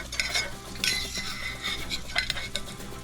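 Eggs and fish are stirred in a frying pan, a low sizzle under repeated scraping and clinking of a utensil against the pan at close range.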